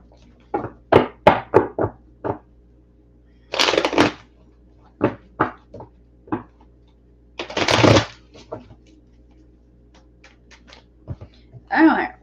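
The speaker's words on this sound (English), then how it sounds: "let's pull some cards for Megan." Tarot cards are shuffled and pulled by hand nearby, with sharp separate snaps and taps alongside two longer riffling bursts of card shuffling, spaced by quiet gaps.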